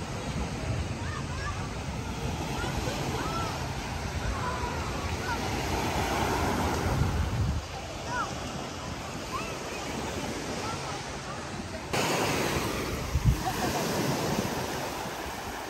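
Sea waves at San Carlos, Sonora, a steady broadband wash of surf with wind buffeting the microphone, continuous and fairly loud, with faint voices and background activity mixed in.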